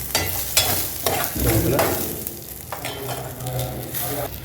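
Green chilies and mustard seeds fry in hot oil for mint chutney, a steady close sizzle broken by several sharp crackling pops and scraping stir strokes, with no talking.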